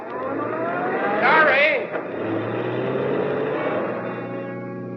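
A radio drama sound effect of a car swerving off the road: a rising, wavering engine whine and brief screech, then a steady motor hum that continues to the end.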